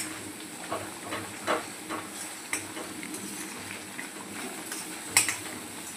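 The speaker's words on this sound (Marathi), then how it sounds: "आता हा मसाला आपल्याला एकदम छान असा परतून घ्यायचा आहे" Masala for Hyderabadi mutton curry sautéing in a pan, a continuous low sizzle broken by irregular spatula scrapes and clinks against the pot, no talking.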